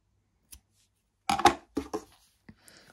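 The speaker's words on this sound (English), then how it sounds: "And cut your yarn here." Scissors snip through yarn during a crochet amigurumi project: a faint tap, then two close, crisp cuts and a small click, alone in a quiet room.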